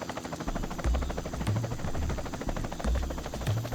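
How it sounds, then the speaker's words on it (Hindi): A steady, loud rotor drone of a helicopter fills the whole stretch, with low thumping pulses rising and falling throughout. "वो देखो, हेलीकॉप्टर।"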